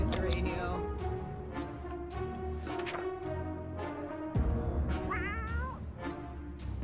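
A cat meows repeatedly in the video game 60 Seconds Reatomized, loud and close over a busy game soundtrack, with several distinct meows spread through the clip.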